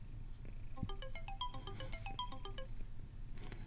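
A Moto G Stylus 2024 phone plays a bright melodic ringtone, a quick run of chiming electronic notes repeating in a bouncy pattern, loud and close over a low background hum.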